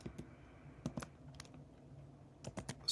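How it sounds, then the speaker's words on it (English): Keys on a computer keyboard are tapped in short, sparse clusters of crisp clicks, close and quiet, with no talking, as google.com is typed in. "So we're just going to type in Google."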